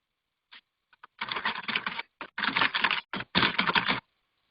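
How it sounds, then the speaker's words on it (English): Bursts of rapid typing on a computer keyboard come in several clusters separated by short pauses, close and crisp, with a few isolated keystrokes at the start. "Then you type whatever you want to type."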